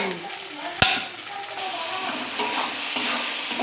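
Browned onion, tomato, salt, turmeric and sugar stirred and frying in a pan for a yogurt katla fish curry, a continuous close sizzle with one sharp knock of the spatula and soft scraping.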